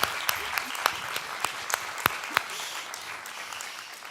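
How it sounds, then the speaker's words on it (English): An audience at a nutrition recommendations launch event applauds, a moderate spread of clapping with a few sharper individual claps, steady for a few seconds and then gradually thinning and fading. "Let's give that a round of applause."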